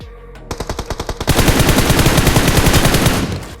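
Rapid bursts of automatic gunfire in BGMI (PUBG Mobile) gameplay, a short measured volley of covering fire that breaks into a sustained loud stream of shots, close and punchy.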